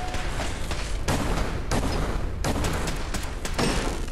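Rapid gunfire fills a Fallout 4 Far Harbor battle, loud bursts of shots arriving in repeated waves with brief lulls between them, dense and close throughout.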